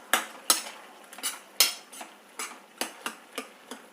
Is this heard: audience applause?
no